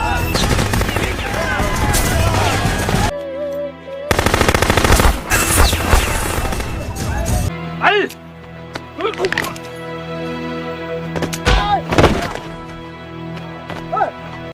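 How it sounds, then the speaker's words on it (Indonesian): Loud, sustained gunfire and rapid bursts fill a film scene in which militia shoot villagers. The shooting is dense and continuous, with heavy overlapping cracks and voices mixed in. "Lalu mereka semua menembaki warga desa Pantong secara brutal dan tiada ampun."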